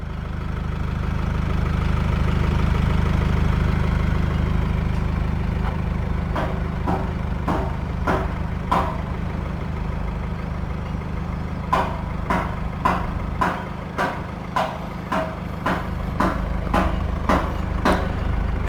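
A 2018 Mercedes-Benz E220d AMG Line diesel car idling after start-up, a steady low rumbling drone with a regular series of sharp ticks or clicks over it later on, close and loud.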